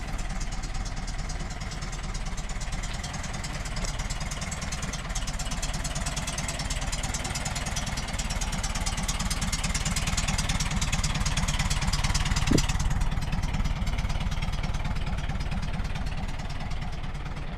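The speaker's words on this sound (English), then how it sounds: "put some fresh fuel and a battery in it, and it cranked right up" A vehicle that sat unused for ten years idles steadily after getting fresh fuel and a new battery, a constant low rumble running alone and evenly throughout, with one brief click partway through.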